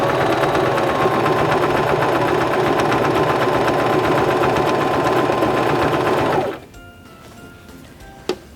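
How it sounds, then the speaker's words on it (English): Singer Start 1304 sewing machine stitching the left side of a buttonhole, a steady close whirring drone of rapid needle strokes for about six seconds, then stopping abruptly, followed by quiet and a single faint click. "So now we can press on our foot control and sew the left side of our buttonhole"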